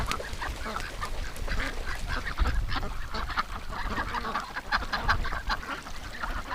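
Ducks quack and honk repeatedly while swimming on a pond, a busy chorus of overlapping calls over a low background rumble.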